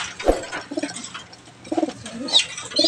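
Pigeons coo close by in two or three short throaty bursts with brief pauses between them, and a few faint chirps and background noises.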